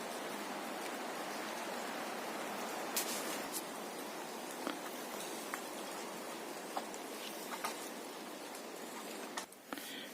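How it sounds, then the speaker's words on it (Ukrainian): Rain dripping from wind-shaken trees in a forest near a village, a soft continuous patter with scattered sharper drops landing close by, steady and fairly quiet throughout, no voices. "Крапає дощ, як вітер хитає."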